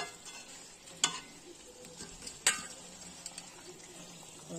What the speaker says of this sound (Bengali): মাছগুলো একই সঙ্গে দিয়ে দিচ্ছি।